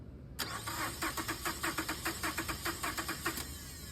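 A car engine cranks on its starter during a starter voltage drop test, a rapid rhythmic chugging of about a dozen even compression beats that starts abruptly and continues without catching, close and fairly quiet, with no talking.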